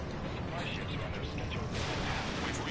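Explosions and gunfire in the combat flight game Ace Combat 7 form a dense, continuous roar of blasts and rattling fire, loud throughout, with a heavier burst partway through.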